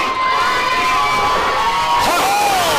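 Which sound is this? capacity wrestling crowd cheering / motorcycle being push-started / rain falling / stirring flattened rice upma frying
capacity wrestling crowd cheering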